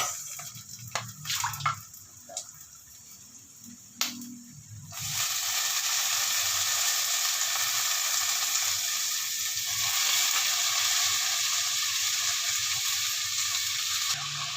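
Browned garlic crackles softly in oil, then water spinach goes into the pan and a loud, steady sizzle takes over, close up, with scattered clatter before it.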